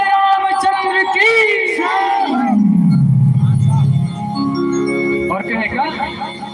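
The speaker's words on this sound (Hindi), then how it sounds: "जोरदार जयकारा लगाएं। बोल श्री रामचंद्र की" A crowd at a devotional Ram gathering shouts the jaikara chant to Shri Ramchandra, loud and close: voices swell into one long, sustained collective cry before breaking into scattered shouts.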